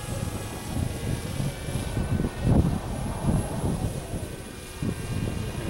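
DJI Spark drone hovering outdoors in a field in a light breeze, giving a continuous fluttering propeller whir with wind noise, steady and fairly close throughout with no speech.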